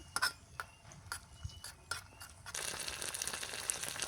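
Spices cook in a pan with tomato sauce for egg biryani, a low sizzle with intermittent stirring scrapes and taps that gives way to a denser, louder frying hiss near the end.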